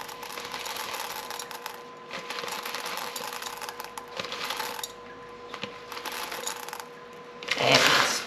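Dried split peas pour from a one-kilo packet in a continuous dry rattling hiss that runs for several seconds, pausing briefly before a final louder rush.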